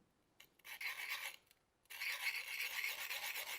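A woodturning gouge bevel is rubbed across a sharpening card in two bursts of close, dry rasping strokes, with a brief pause between them.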